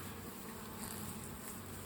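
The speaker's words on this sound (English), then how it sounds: "you see all these bees out on the ground here?" A steady, low buzzing hum of many honey bees from a hive with laying workers, continuous and fairly faint, with no voices.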